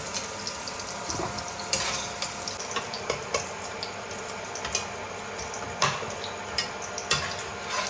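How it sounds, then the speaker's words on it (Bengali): Jackfruit pieces fry lightly in hot oil, a continuous close crackling sizzle broken by sharp pops and spits, with no voices. "ইঁচড়টাকে ঢেলে দিলাম। এরকমভাবে হালকা করে ভেজে দিলাম।"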